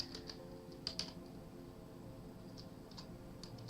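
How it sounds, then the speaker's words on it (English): Keys on a computer keyboard clatter in quiet, scattered bursts, a few faint clicks at a time over a low background hum, with no voices. "Oh, I'm typing backwards."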